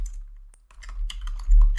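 Keys clatter on a computer keyboard as a ping command is entered in a Kali Linux terminal, a short burst of irregular clicks after a brief pause, growing denser and louder toward the end, with no talking.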